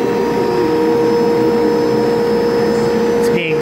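Vacuum suction frame holding an autoharp in place in an instrument workshop, a loud steady droning hum with a constant tone that continues unchanged throughout.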